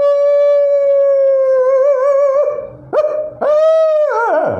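A man imitates a dog with his voice, starting with a drawn-out howl. A couple of sharp bark-like yelps and a final falling whine follow. The sounds are close and loud, with no speech.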